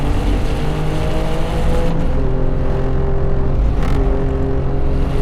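An Alfa Romeo Giulia Quadrifoglio on a race track, its engine roaring loud and close as the car brakes hard and runs wide into a corner, with a sustained droning growl and brief shifts in pitch.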